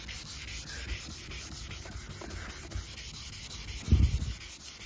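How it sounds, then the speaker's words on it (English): Sandpaper used by hand on a yellowed plastic headlight lens of a Chrysler PT Cruiser, giving quiet repeated rubbing and scraping strokes, with a slightly louder scuff near the end. "I'll have to do it with the sandpaper on its own."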